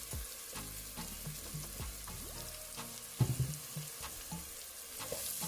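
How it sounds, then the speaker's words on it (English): Curry powder frying in oil for Jamaican-style jollof rice gives a continuous close sizzle, with scattered clinks and scrapes of a spoon stirring the pot. "I want the curry to burn in the oil"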